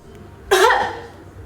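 A single forceful cough, helped by hands pressing inward and upward on the abdomen, bursts out once after a quiet moment and fades quickly, close and clear with no talking.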